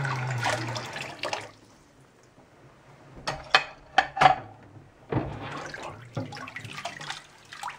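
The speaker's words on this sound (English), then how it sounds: "I can do these dishes so slow" Dishes are washed slowly by hand in water, with soft sloshing and sharp clinks and clatters of dishware in a cluster midway, then more splashing near the sink.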